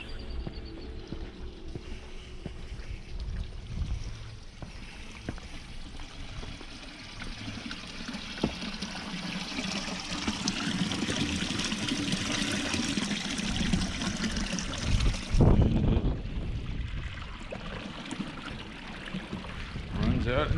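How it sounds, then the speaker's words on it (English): Spring-fed stream water flowing outdoors at a Civil War prison camp site, a steady broadband trickle and wash running continuously throughout, with a brief louder splash or disturbance near the middle. "Looks like we have part of the stream over here too"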